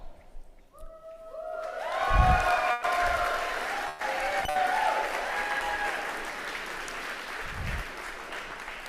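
An audience at a robotics qualifier event bursts into applause and cheering, with a dense wash of clapping and scattered shouts holding steady throughout, while a rising electronic tone sounds near the start.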